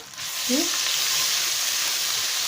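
Ginger paste sizzling in a hot pan as it is stirred, a loud, steady frying hiss that starts abruptly and holds evenly, with a brief scrape of the spoon near the start.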